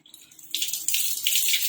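Tap water runs and splashes over lentils being rinsed for mudda pappu, starting as a light trickle and then becoming a steady, louder gush into a bowl at close range.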